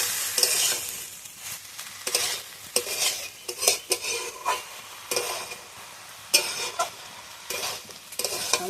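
Banana stem, pumpkin and shrimp sautéed in a pan, with loud close spatula scrapes and clanks against the metal in uneven bursts over a soft sizzle, no talking.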